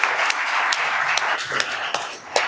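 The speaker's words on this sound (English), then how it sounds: "Let's all give these candidates a round of applause" Audience applause for candidates at a League of Women Voters event, a dense steady patter of clapping hands with a few sharper claps standing out, moderately loud and close throughout.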